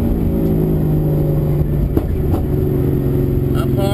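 V8 race car on the Pukekohe circuit in Auckland, engine note loud and steady throughout as it brakes, drops to third and pulls away, with a sharp transient near the middle and rising pitch toward the end.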